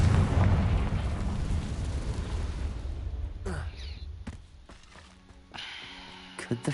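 A Confringo fire spell goes off in Hogwarts Legacy with a loud, rumbling blast at the start that trails into a long roar and fades. Sharp pops and game effects follow, with no talk.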